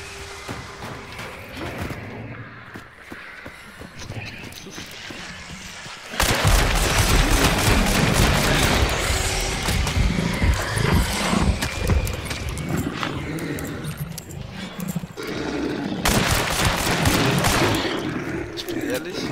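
Rapid bursts of gunfire in the video game Hunt: Showdown crackle through a dense, noisy battle mix, with heavier volleys kicking in partway through and continuing to the end.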